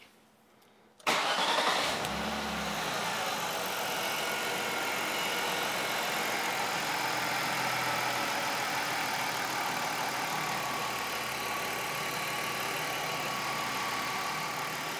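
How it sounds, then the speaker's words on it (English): A car engine cranks briefly after a short quiet moment, catches and settles into a steady, even idle that holds loud and close for the rest of the stretch, with no talking. "My intention now is to start the vehicle up and take a simple observation at idle"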